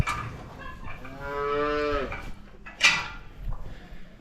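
A cow in a full barn on a cold calving day gives one long, drawn-out moo near her newborn calf, followed by fainter shuffling and a softer, brief call.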